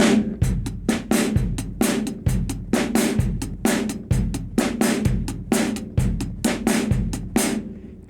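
Drum kit playing a 1950s rock and roll beat with the second snare note of each pair accented: a steady, close, loud groove of kick, snare and cymbal hits in a repeating rhythm, no voices.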